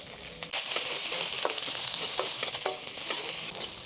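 Garlic and onions fry in soybean oil for a Chinese-style chicken dish, a close bright sizzle with spatula scrapes and stirring knocks at irregular moments, no voices.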